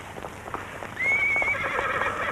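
A horse gives a clear rising whinny against a background of hooves clip-clopping, moderately close, with no one speaking.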